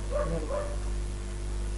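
A dog gives two quick barks close by, heard over a steady low hum of background noise, then goes quiet.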